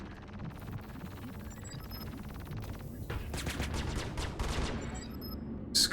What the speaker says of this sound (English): Get some missiles on him too.